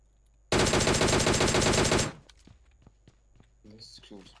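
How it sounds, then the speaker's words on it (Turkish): Sustained automatic gunfire from a firefight in PUBG Mobile, a dense rapid burst of shots lasting about a second and a half, followed by faint scattered footsteps and small clicks, with a voice speaking toward the end. "Şurada çatışma var ya."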